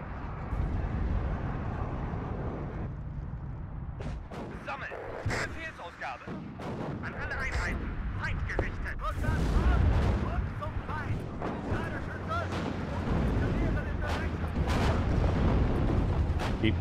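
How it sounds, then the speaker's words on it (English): Bombing strike explosions in the video game WARNO come as repeated heavy booms and rumbling blasts over continuous battle noise, loud and dense, with someone talking throughout. "Good bombing strike."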